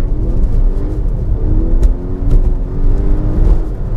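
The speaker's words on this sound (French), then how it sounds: "on va faire un test d'accélération. Je vais m'arrêter. 0 km/h. Et je vais accélérer à fond." A Volvo V90 T8 plug-in hybrid estate accelerates at full throttle from a standstill, heard from inside as a loud, steady rising whir and rumble with a climbing tone.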